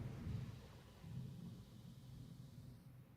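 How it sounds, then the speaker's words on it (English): Low, distant thunder from a game cutscene rumbles steadily and faintly for a few seconds with no other clear sounds. "That's a thunder."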